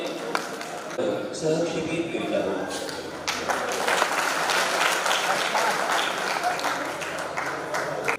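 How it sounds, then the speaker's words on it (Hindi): An audience at a radio listeners' conference in Buldhana breaks into applause that swells and holds steadily for several seconds, dense hand clapping filling the hall with some voices underneath. "जोरदार ताली होनी चाहिए।"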